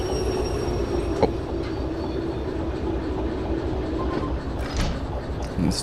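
A train in the railway game Derail Valley rolls along with a steady low rumble, brief wheel squeals and clicks rising over the noise, heard close and continuous.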